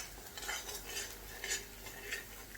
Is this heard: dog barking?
no